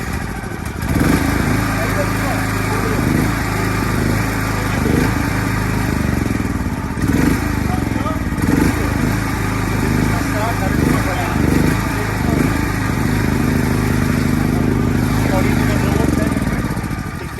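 A petrol generator engine starts and settles into a steady, loud, continuous run with a low mechanical drone and clatter, close by, holding level throughout.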